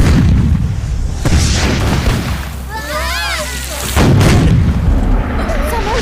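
Heavy cannon fire booms repeatedly, loud and close, with rumbling blasts and a voice speaking briefly between the shots.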